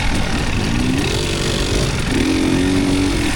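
A trail motorcycle rides along a muddy riding area at Valley Trail Riders, its engine droning loud and close with slight pitch rises as it pulls through the gears.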